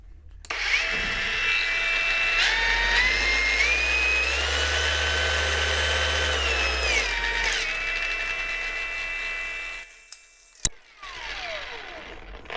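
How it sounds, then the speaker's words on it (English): An Ingco cordless random orbital polisher whines steadily and loudly, its pitch stepping up through six speed settings before winding down, followed by a sharp click and a fading spin-down. "That's the cordless polisher from Ingco."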